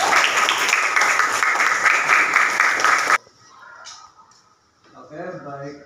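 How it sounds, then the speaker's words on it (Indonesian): A school class applauds on cue for about three seconds, a dense, loud burst of many hands clapping that cuts off abruptly, followed by quiet room sound and a brief voice. "Tepuk tangan semuanya."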